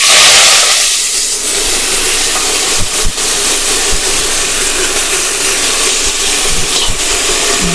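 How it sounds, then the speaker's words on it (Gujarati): Asafoetida and leafy greens hit hot oil in a pan where mustard seeds and cumin are already crackling, giving a loud, steady, close sizzle and hiss with a few scattered pops throughout. "હવે આપણે હિંગ નાખીશું અને આ ભાજી નાખી દઈશું."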